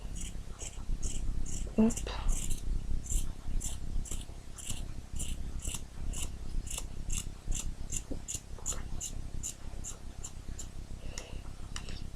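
Repeated crisp snips of scissors cutting fabric for a doll's dress, close and rhythmic through most of the stretch, with a brief spoken word early on.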